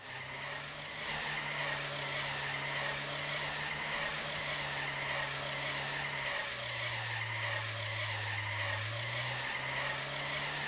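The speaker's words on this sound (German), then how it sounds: "Das Auto quietscht mehr als es fährt." Car tires squealing continuously in Trader Life Simulator 2, a long steady screech with shifting pitch that runs the whole time over a loud engine drone, with no talking.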